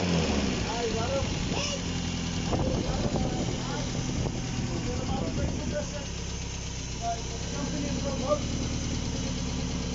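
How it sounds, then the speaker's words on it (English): An Opel Corsa B GSI engine idles steadily on its first start after a full rebuild, a continuous close mechanical rumble with a faint knocking texture, and people talk over it. "I'm just letting her idle first."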